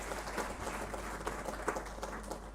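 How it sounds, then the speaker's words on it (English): Faint applause from a conference audience at an energy efficiency and electric mobility event, a thin patter of clapping heard at a distance over a low steady hum. "Can we give another big round of applause to Dr. Musenero?"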